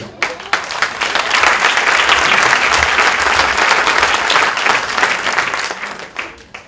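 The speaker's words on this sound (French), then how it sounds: "Vous pouvez les applaudir." A lecture audience bursts into loud, dense applause, many hands clapping close and steady for several seconds before tapering off at the end.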